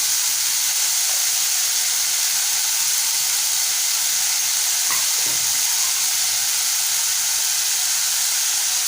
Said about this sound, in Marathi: मिनिटं आपल्याला छान तेलामध्ये परतवायचं आहे।